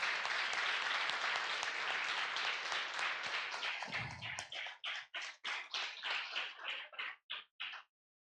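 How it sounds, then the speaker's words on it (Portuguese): A room full of people at a church worship service applauds loudly, then the clapping thins out into scattered individual claps before stopping. "Pode dar uma salva de palmas também."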